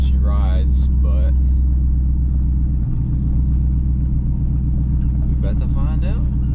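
Lifted truck with over six inches of lift driving, heard from inside the cab as a loud, steady low engine and road rumble, with people talking over it at the start and end.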